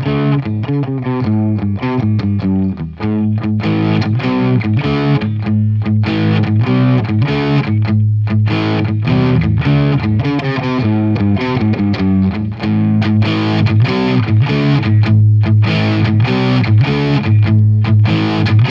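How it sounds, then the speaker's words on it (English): Heavily saturated electric guitar through a booster pedal with raised output into an amp pushed into saturation plays a dense, compressed riff with steady chords, loud and continuous with no voices. "rising the output level adds more compression, more density and pushes the amp into saturation."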